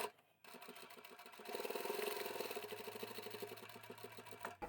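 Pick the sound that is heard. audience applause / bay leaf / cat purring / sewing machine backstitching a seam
sewing machine backstitching a seam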